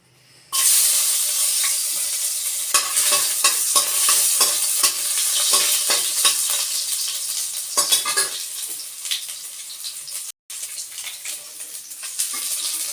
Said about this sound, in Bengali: তেল গরম হয়ে গেছে তো এবার আমি দেব রসুন আর আদা